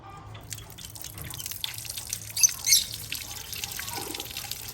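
Water running and dripping over money plant cuttings as they are washed, light splashes and drips close by with a brief louder splash midway.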